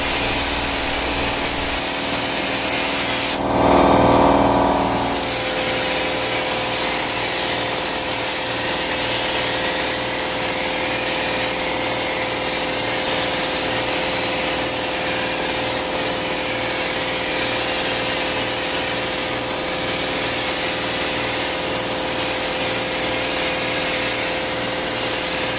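Spray gun applying sound-deadening coating to a car ceiling, a loud, constant close hissing rush that runs nonstop throughout, with a brief deeper burst near the start and no talking.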